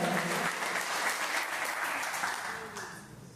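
Loud, dense applause fills a church gathering marking autism awareness month, a full wash of many hands clapping at once that holds steady and slowly fades toward the end.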